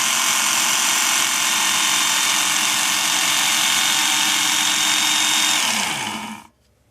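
A Work Sharp KO powered knife sharpener runs loud and close with a steady high-pitched motor whine, then winds down and cuts off near the end.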